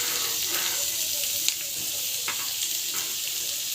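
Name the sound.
onions sizzling in hot oil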